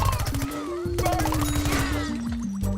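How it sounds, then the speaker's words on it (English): Gatling gun in a zombie-defense video game, firing rapid continuous bursts with a steady mechanical rattle, loud and close, layered over game music and tones. "So let's just go on the Gatling just to get rid of you."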